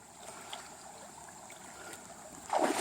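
A small creek flows steadily near a flood control dam in the Blue Ridge foothills of North Carolina, a soft continuous wash of running water heard from nearby, with a brief louder splash or rustle at the end.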